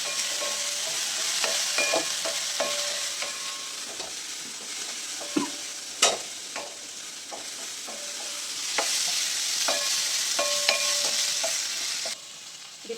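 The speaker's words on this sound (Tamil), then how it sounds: "தக்காளியும் இதோடையே போட்டு வதக்கிடலாம்" Onions and tomatoes sizzle steadily in a pan for egg gravy while a utensil stirs and scrapes in scattered clacks, close up, with no talking.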